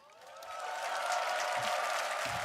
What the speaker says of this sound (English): Serena giving you a big round of applause there.